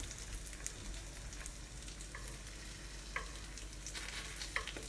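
Foaming butter sizzles quietly in a pan, a soft continuous crackle and hiss with a few small pops and stirring scrapes, low in level and without voices.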